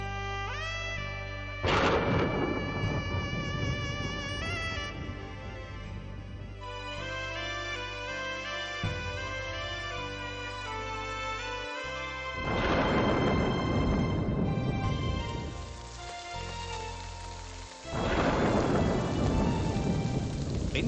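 Heavy rain falls steadily throughout while loud thunder cracks and rolls in three big bursts, near and powerful, with no voices.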